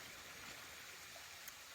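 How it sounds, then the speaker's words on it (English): A small creek flows steadily nearby, giving a faint, continuous broadband trickle and rush of water with no talk over it. "sitting by this cute little creek"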